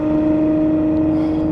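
Loud, steady drone of the Novitec-tuned Ferrari 812 N-Largo S V12 held near 3000 RPM, a strong continuous engine tone from inside the car with no talk over it.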